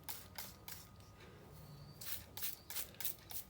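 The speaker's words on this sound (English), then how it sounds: "I just spray that directly to my scalp" Several short bursts of misting spray from a spray bottle, holding an apple cider vinegar mix, hiss close by onto a scalp, repeating in quick pumps with brief pauses between them, no voices.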